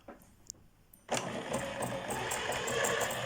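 After a faint click or two, an Elna 7000 sewing machine starts stitching at its maximum speed, a dense, steady, fast mechanical whirr that runs without a break to the end.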